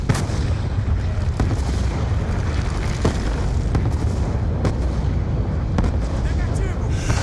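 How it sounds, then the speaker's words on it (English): Mortar fire in the Black Ops 2 campaign: repeated heavy booms and blasts roll over dense, continuous battlefield rumble, loud and close throughout. "The mortars have stopped!"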